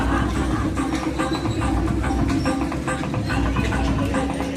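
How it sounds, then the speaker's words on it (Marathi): A fairground train ride at a village temple festival fair runs nearby, a steady rumbling clatter with rhythmic clicks over a dense crowd and fair-noise background. "बघा, ट्रेन कशी काय।"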